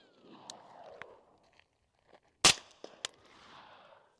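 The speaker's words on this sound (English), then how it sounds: "Next up, we'll do the Bren. First time running this suppressed with the correct piston setup." Suppressed Bren 2MS rifle with correct piston setup firing a single sharp shot near the midpoint, followed by fainter mechanical clacks of the action, with quiet outdoor ambience before and after.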